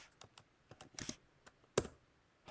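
Someone types on a computer keyboard, entering a function domain: a quiet, irregular run of close key taps with a couple of sharper clacks, no speech.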